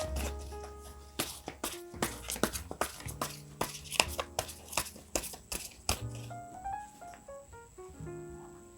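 Tarot cards being shuffled by hand: a run of quiet, crisp riffling and tapping bursts that come in uneven clusters, close and alone, with no talking over them.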